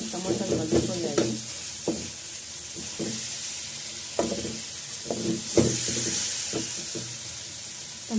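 Tomatoes sizzling in a pan over a medium-high flame, a constant close hiss broken by irregular scraping and stirring knocks of a spoon, with no talk.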